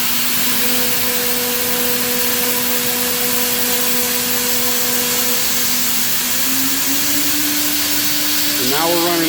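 A Mapal Tro Uni 6mm end mill cuts metal with a 2-degree helical entry at 15,000 RPM and 150 inches a minute, giving a steady loud machine whine with sustained tonal lines that shift upward near the end.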